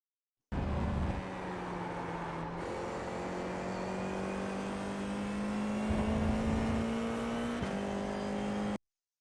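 An FIA F4 race car at Suzuka held at full throttle, its engine a steady rising drone with brief dips at the gear changes, loud and close throughout.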